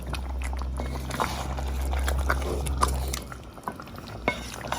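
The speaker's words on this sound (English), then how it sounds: "While it sizzles in its own juices." Chicken sizzling in its own juices in a pan gives a soft crackling sizzle with scattered pops and spits over a low steady hum, fairly quiet and continuous.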